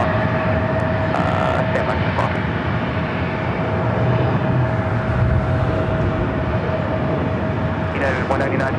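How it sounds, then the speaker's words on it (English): A Delta Boeing 757 jet takes off from runway 24 left at LAX, a loud, steady engine roar that holds throughout with a faint tonal whine, while a voice talks over it. "Delta 757 taking off, 24 left,"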